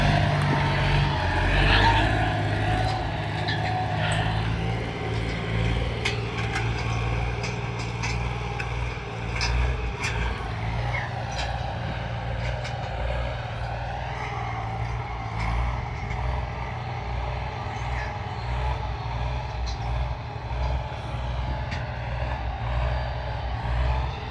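A Dongfeng DHL delivery truck rolls past on a village road, its deep engine drone steady and fairly loud throughout, swelling and easing slightly as it goes by, with no talking.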